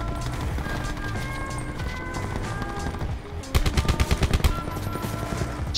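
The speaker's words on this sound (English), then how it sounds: "Shit, I'm being shot at." Gunfire in the Call of Duty Blackout video game on Alcatraz, a steady crackle of shots under game sounds that turns into a loud, rapid burst of close automatic fire for the last couple of seconds.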